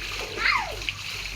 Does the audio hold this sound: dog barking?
no